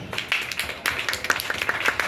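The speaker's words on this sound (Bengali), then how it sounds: "আমি কাকলিদের জন্য একটা হাততালি চাই" A small group claps briefly, a quick scattering of hand claps at moderate distance with no talk.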